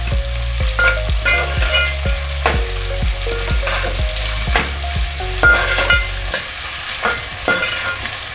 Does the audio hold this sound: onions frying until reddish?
yes